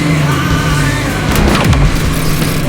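A black 1993 Ford SVT Cobra cruises along a road at night, its engine note steady and loud from inside the cabin, with road rumble and a brief rising whoosh partway through.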